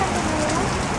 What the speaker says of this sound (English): It started to rain, however,